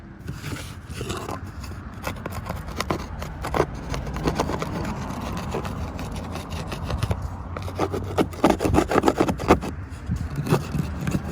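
Old silicone sealant being scraped off a camper roof with a hand tool, a close, continuous rasping and scratching with short bursts of strokes, louder toward the end, with no speech.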